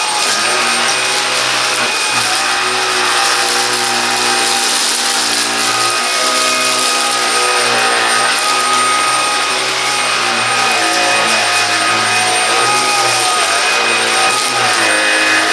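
A Silvercrest cordless cyclone vacuum cleaner runs steadily and loudly close up, a continuous motor whine with a bright, airy rushing hiss and slight pitch wobbles throughout, no voices.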